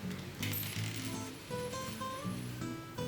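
Rp1,000 coin dropped into an electronic coin detector built for a prepaid electricity vending device, giving a few short metallic clinks and rattles close by, with a brief electronic tone afterward and no talking.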